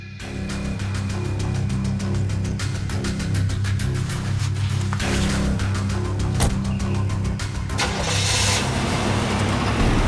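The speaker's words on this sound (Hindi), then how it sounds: "गाड़ी चलाओ।" A car engine starts and then runs steadily as the vehicle drives off in a scene from a TV crime drama, with a loud, continuous mid-range rumble and no speech.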